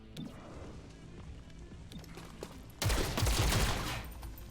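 Gunfire from the video game XCOM Chimera Squad opens with a few scattered shots, then becomes a loud, dense burst of rapid shooting lasting over a second before it tails off.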